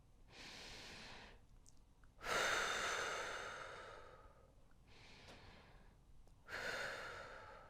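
Slow, deep breaths drawn through the nose, four long airy inhales and exhales in a calm, even rhythm, soft and close with nothing else present.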